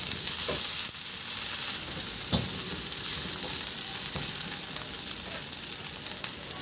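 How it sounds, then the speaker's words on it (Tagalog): Garlic, ginger and onion sautéing in hot oil in a pan give a loud, steady sizzle and crackle throughout, with a few soft stirring knocks. "Igisa ko na rin yung bawang. Isunod ko na rin ilagay yung luya at sibuyas."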